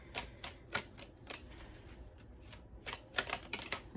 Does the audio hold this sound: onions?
no